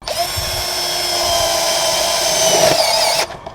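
A DongCheng cordless impact drill drives screws into double-layered light steel with a loud, close, high-pitched whine that holds steady for about three seconds and then cuts off abruptly.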